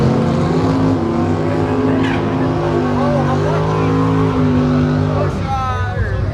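Super stock race cars idle with a loud, continuous rumble while waiting in the staging lanes at a Beech Bend stock and super stock combo race, steady engine drone throughout with voices faintly mixed in.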